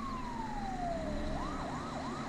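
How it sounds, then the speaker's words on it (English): An ambulance siren in the emergency-response video game FS:911, a falling wail that shifts into a rapid yelp pattern, continuous and moderately loud under a low engine drone. "All right, ambulance 51 almost on scene."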